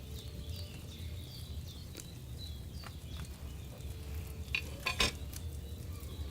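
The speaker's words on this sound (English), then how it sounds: "Hear that bubbling? It's boiling." Wine simmering in a cauldron over a flame in Kingdom Come Deliverance II, a steady soft bubbling and sizzling bed with occasional light clinks and a brief louder bubbling burst near the end, no voices.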